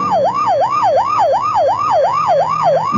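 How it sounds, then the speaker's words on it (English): A police car or ambulance siren wails in a steady, rapidly repeating rise-and-fall pattern, loud and close, with faint traffic rumble beneath and no voices. "You know it's a police car or ambulance on the way to or from an emergency in which someone is badly hurt."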